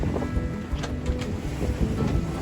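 A sailboat rolls in big swells off Point Loma, with wind buffeting and rushing water close by as the mainsail flops and flutters in irregular bursts.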